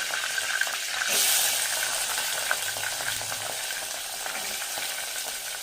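Onions drop into hot oil with fennel seeds, curry leaves and dried chilies for a potato masala fry, setting off a loud burst of sizzling that settles into a steady, close frying hiss.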